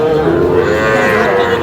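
A young Sahiwal bull calf at a cattle market gives a single long, loud, sustained moo, close by, filling the whole moment.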